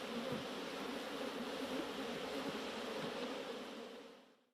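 A steady, dense buzzing of many bees hums continuously, fairly close, then fades out at the end.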